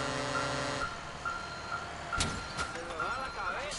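A heavy truck reversing in GTA IV, its repeated beeping warning tone sounding under engine noise, with a brief horn-like blast midway and a voice talking in the background.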